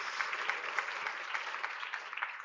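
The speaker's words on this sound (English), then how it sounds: "Let's give him another round of applause." Summit audience applause after a speaker's talk, steady crowd clapping of moderate loudness with a few louder individual claps standing out, continuing without speech.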